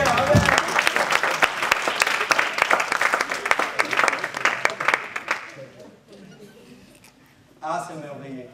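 A church congregation applauds loudly and continuously for about five seconds before the clapping fades, followed by a brief burst of voices near the end.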